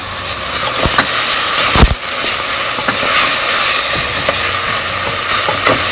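Onion sautéing in a pan for an East African barazi breakfast dish, a steady loud sizzle and hiss with occasional sharp pops and crackles, close up and continuous without any talking.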